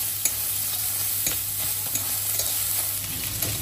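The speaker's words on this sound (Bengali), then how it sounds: "2 থেকে 3 মিনিট একটু নেড়ে নিচ্ছি, যতক্ষণ না নরম হচ্ছে।" Onion stirred in a dry pan with no oil over a low gas flame, a steady soft sizzle with a spatula scraping in a regular rhythm, close and continuous.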